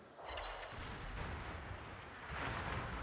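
Heavy naval gunfire from an enemy battleship strikes a ship in a video game. A dense, sustained rumble of blasts and impacts rolls on for the whole stretch, fairly faint and with no speech over it.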